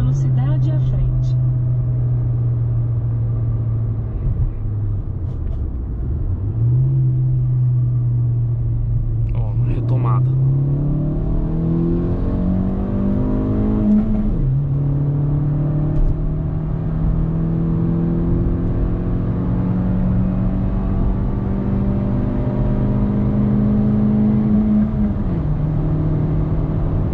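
Fiat Argo Trekking car accelerating hard, engine pitch climbing through the gears with drops at each shift, steady loud cabin rumble throughout.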